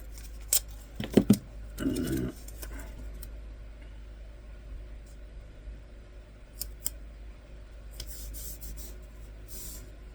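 Tape being pulled and cut at close range, with a few sharp crackling rips and snips early on, then quieter rustling handling and a couple of faint clicks over a steady low hum, no voices.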